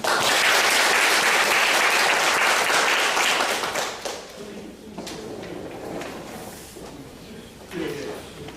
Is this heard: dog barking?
no